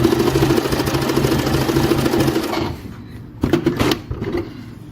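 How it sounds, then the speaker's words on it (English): A sewing machine that fails to form stitches, leaving both threads loose, runs with a steady mechanical whir and rapid ticking. It then stops abruptly, followed by a couple of short bursts of clattering restart. "let's put the material in, let's try to sew, and we will see the fault it presents, which is the machine not making any type of stitch"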